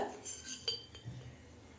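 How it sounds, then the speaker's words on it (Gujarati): A few quiet metallic clinks and taps of a spoon against a bowl as coffee is added, close by and soft. "એક ચમચી જેવું હું કોફી નાખી દઉં છું અંદર"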